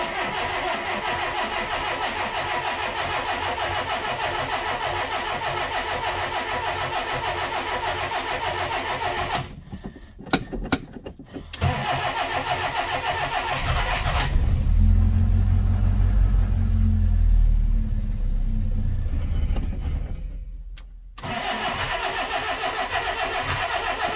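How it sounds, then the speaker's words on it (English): A Ford Cortina that has not been run in a long time cranks and fires up, its mid-range engine rumbling steadily, briefly cutting out and catching again, then idling loud and close with no one talking. "car hasn't been fired up in a long time now"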